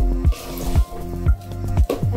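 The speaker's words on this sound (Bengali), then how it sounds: "এখন আমি চাউলের মধ্যে গরম পানি দিয়ে দিব।" Hot water poured into rice that has been fried for a beef biryani, giving a steady liquid stream with soft bubbling and a few sloshing pulses, close by.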